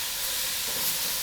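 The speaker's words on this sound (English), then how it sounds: "I'm going to add all my other veggies and fry them" Chopped vegetables frying in a hot pan for a lentil curry, giving a steady, close, even hiss of sizzling oil with no gaps and no talk.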